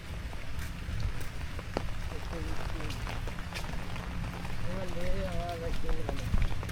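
Heavy rain pours in Gajipur, a dense steady patter with scattered sharp drips close by, while a person talks over it throughout.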